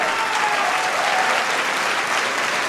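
A packed church congregation bursts into louder applause, a thick, unbroken roar of clapping hands at full strength with no pauses.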